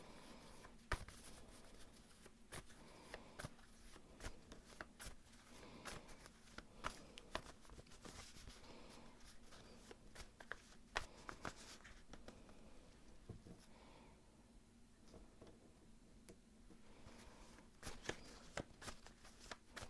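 Tarot cards shuffled by hand, a quiet, steady patter of riffling and sliding cards with frequent soft snaps and taps, close by, with no voices.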